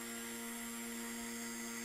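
A K110S radio-controlled helicopter hovers at full throttle, giving a constant, close, buzzing whine with steady tones and no break.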